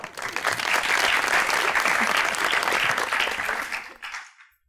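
A studio audience at a television talk show bursts into loud, sustained clapping that holds steady before tapering off abruptly into silence.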